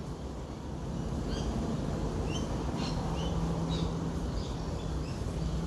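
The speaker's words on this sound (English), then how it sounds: "And I hope you can hear the birds," Scattered bird chirps and short calls sound outdoors against steady low wind or sea rumble, with brief high notes recurring through the whole stretch and no voices.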